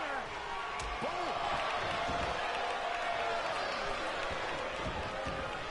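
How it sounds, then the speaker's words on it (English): Loud, dense wrestling crowd roaring and cheering continuously at a CDVIII Wrestle Wars event, a sustained wall of noise with scattered claps and thuds, and voices mixed into the din. "The sound of this crowd is deafening"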